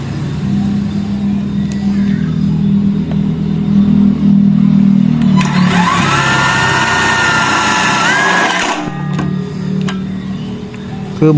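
A Dongcheng (DC) cordless impact driver runs at high speed in mode 2, giving a loud, steady whine of several seconds that rises over a low hum, with hammering clatter in the middle and the tone dropping off at the end.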